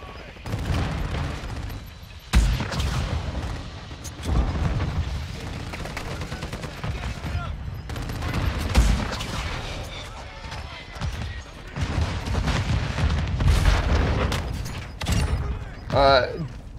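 Launcher explosions and rapid weapon fire in a first-person shooter video game, with repeated booming blasts and bursts of gunfire through most of the stretch, loud and close, mixed with game announcer voice lines.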